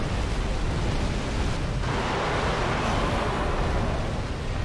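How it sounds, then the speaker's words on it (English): Midir's Dark Explosion attack in Dark Souls 3 roars as a loud, continuous wall of broadband rumbling noise, dense and unbroken throughout, like a sustained eruption with no distinct individual hits. "Okay, it's Dark Explosion."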